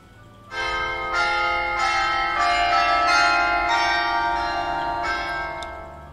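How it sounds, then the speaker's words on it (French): Carillon bells in a golf video game chime the nine o'clock hour, several overlapping strikes ringing out in sequence with long sustained, shimmering tones that build and then slowly decay, clear and fairly loud with no talk over them. "c'est déjà les 21 h qui sonnent au carillon"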